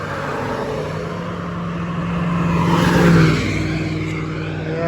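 Cars passing on a road, one vehicle approaching with a rising engine whoosh that peaks near the end and fades as it goes by, over a constant hum of traffic.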